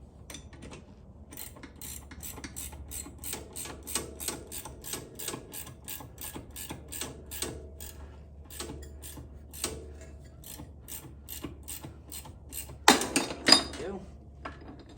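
A wrench ratchets on a Suzuki LTZ 400 quad bike, giving a long run of quick metallic clicks close by. The clicks come in short irregular bursts, with a louder clatter of tools near the end.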